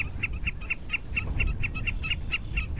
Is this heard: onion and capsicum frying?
no